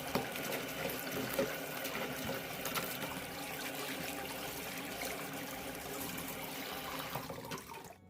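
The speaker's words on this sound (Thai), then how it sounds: "นำใบกะเพรามาล้างให้สะอาดดีเลยนะคะ" Holy basil leaves are rinsed under running water, a steady, continuous trickle and splash heard close up without a break and with no talking.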